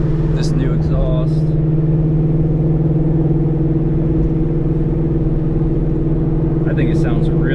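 A Terminator Cobra with a newly fitted exhaust cruising on a back road, its engine holding a loud, steady low drone close up, with a voice speaking briefly at the start and end.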